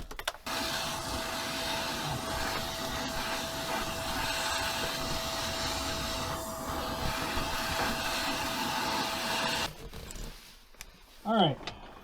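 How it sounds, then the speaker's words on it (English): Shop vacuum running steadily, sucking debris and lead bits out of an underground drain, a loud continuous whine that cuts off near the end before a brief voice. "Now I gotta vacuum this out."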